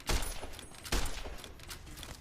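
Gunfire from a Fallout: New Vegas fight against Powder Gangers. Two sharp, punchy shots about a second apart are followed by a fading clatter.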